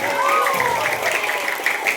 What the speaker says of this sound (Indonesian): Hebat, tepuk tangan buat laki-laki.